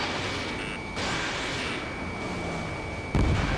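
Missiles explode during aerial combat in the video game Ace Combat 7: Skies Unknown, heard as a continuous dense roar of blasts with a sharper, heavier low boom near the end.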